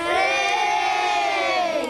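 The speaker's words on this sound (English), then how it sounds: "OK, big cheer for me" A television studio audience cheers and whoops together, a steady loud wash of many voices with children's shouts mixed in, held for a couple of seconds.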